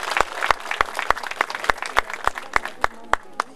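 Rhythmic audience clapping in unison at a village festival in Prisăcani, Iași county, sharp regular claps about three per second, with faint voices underneath.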